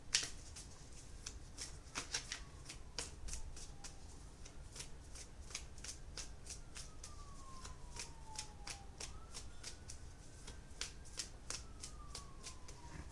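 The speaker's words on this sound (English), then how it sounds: "And then I will pull an oracle card as well." Oracle cards being shuffled alone in quick, steady riffling bursts across the whole stretch, close and moderately loud, with a faint tone drifting in the background.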